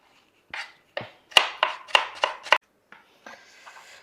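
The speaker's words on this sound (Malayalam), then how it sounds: "ഇനി സവാള ഒന്ന് കുനുകുനാന്ന് ഇങ്ങോട്ട് കട്ട് ചെയ്തെടുക്കണം" Knife finely chopping onion on a board in a home kitchen: about eight sharp, crisp cuts in an uneven rhythm, close and clear with no talking, followed by soft scraping.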